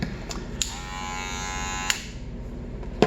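Gamma Alpha hair clipper fitted with a wall cutter blade runs with a loud, steady high buzz for about two seconds, then cuts off, with a few sharp clicks and handling knocks around it and no talking.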